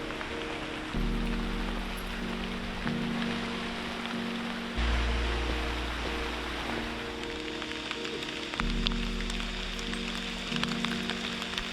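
Steady rain falling at the Omni Mount Washington Hotel Resort, a constant even hiss of drops on surfaces with a low hum underneath that comes and goes, continuous and without speech.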